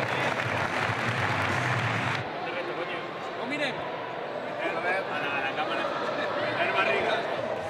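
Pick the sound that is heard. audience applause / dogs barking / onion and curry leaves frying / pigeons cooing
audience applause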